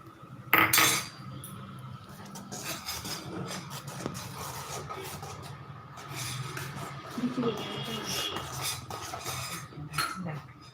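A metal ladle scraping and stirring food in a cooking pot, with repeated close clinks and rasping scrapes in an uneven rhythm against faint background sound.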